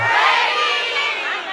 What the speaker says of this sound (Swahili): Kelele ya pili kwa Joyce wake